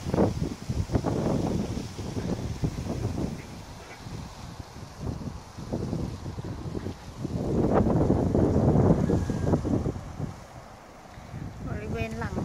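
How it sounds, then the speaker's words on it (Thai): Strong gusting wind blows behind the ordination hall of a Buddhist meditation temple, rising and falling in broad rumbling surges close to the microphone, with a soft voice briefly heard near the end. "วันนี้ลมแรงมากเลยค่ะ"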